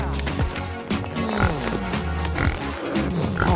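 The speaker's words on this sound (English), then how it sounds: "It's Jimmy the pig." Jimmy the pig, a sick toy pig being fixed up, gives several grunting oinks over a busy background, close and fairly loud.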